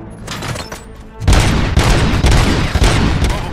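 Rapid gunfire erupts in the video game RoboCop: Rogue City, a loud sustained fusillade of overlapping shots that starts abruptly after a quieter lead-in and keeps going to the end.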